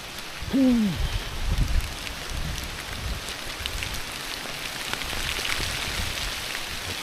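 Steady rain patters over foliage with a constant hiss, drops tapping nearby; a brief low sound rises near the start before the downpour continues evenly.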